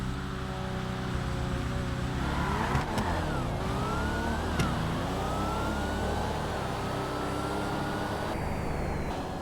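Two cars, a Z and a Hellcat, rev and accelerate in a GTA video game drag race, their engine tones rising and falling in sweeping pitches over a dense, continuous roar with no talk.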